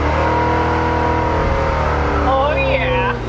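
A modified car tearing through a burnout on a street, engine held at a steady high roar with tire squeal rising near the end, loud and close, with people talking over it.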